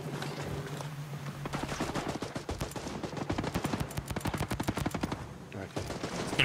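Rapid automatic gunfire in Ghost Recon's Raid mode, a long, fast, evenly spaced burst of shots that runs loud and close for several seconds over background game noise.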